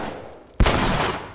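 Gunfire in The Last of Us Remastered: one sharp, loud shot bursts in after a quiet stretch and leaves a broad, sustained echoing tail.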